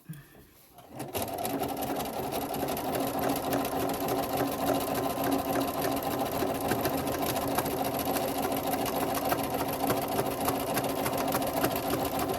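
A sewing machine runs steadily in a zigzag stitch through layered tee-shirt fabric for a diaper, a continuous close mechanical whirr that starts after a brief pause and holds even for about eleven seconds.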